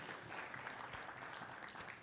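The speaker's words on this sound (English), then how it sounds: "Another big round of applause for Wim and the team." Audience at a business conference on a capital-market IPO giving a round of applause, a steady, distant wash of clapping throughout, faint and without breaks.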